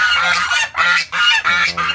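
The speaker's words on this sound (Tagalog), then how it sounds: "ito yung ating dalawang gansa" Two backyard farm geese honk in loud, close, repeated bursts, about four nasal calls with short pauses between them.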